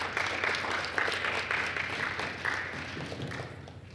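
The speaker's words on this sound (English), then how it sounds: "Give him a round of applause, please." An audience at a sports team reveal ceremony applauds an athlete, a steady mass of clapping hands at moderate, fairly distant volume, continuous and fading slightly toward the end.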